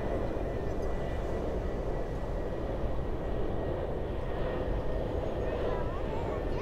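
A low-flying airplane passes overhead on approach to Sochi airport near the beach, producing a steady, loud, broadband engine roar that fills the whole stretch without a break.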